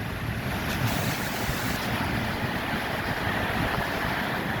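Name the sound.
strong wind blowing rain during storm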